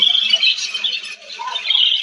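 A cockatiel squawks loudly and continuously up close, a harsh shrill call that dips briefly midway before resuming.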